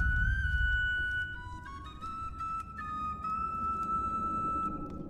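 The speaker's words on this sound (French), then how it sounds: "Jouer le sifflet des terres." A melodic land whistle played in the video game Bard's Tale IV, clear sustained whistle tones stepping through a short tune over a low ambient rumble.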